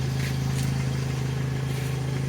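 Toyota Kijang LGX idling with a diesel-style aftermarket gas exhaust tailpipe, a steady, loud low drone with a continuous rumbling tone throughout and no talk.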